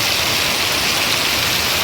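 Steady, loud rain pours down in a village, a dense continuous hiss with no breaks and no voices.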